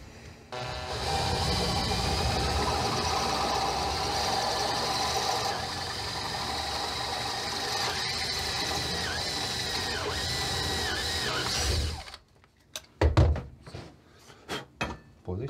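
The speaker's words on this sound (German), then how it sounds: "und dann bohren wir die einfach mit einem 6 mm Bohrer auf." A steady, loud mechanical whir of a 6 mm drill bit boring into metal runs for about twelve seconds, then stops, leaving a few scattered knocks and clatters.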